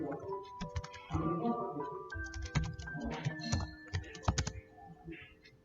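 Rapid keystrokes on a computer keyboard, entering a password while setting up a LAMP server on a Debian VPS, clatter in close, uneven bursts with a few longer gaps, up front and clear.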